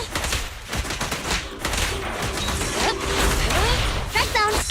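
Gunshots from the Zenless Zone Zero video game ring out in a burst of sharp cracks near the start, followed by game sounds and character voices speaking.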